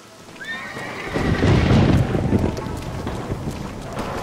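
Horse neighs and whinnies in Red Dead Redemption, a rising whinny early on, followed by a swell of wind-like rushing noise and snorting breath, moderately loud, with no talking.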